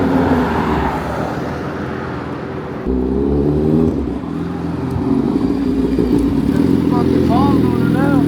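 A 2024 Suzuki GSX-R750 with an aftermarket exhaust revs and pulls away, a loud, sustained engine drone that steps up in pitch through the gears, with a whining rise near the end.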